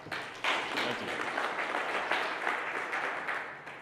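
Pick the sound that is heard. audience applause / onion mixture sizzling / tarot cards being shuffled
audience applause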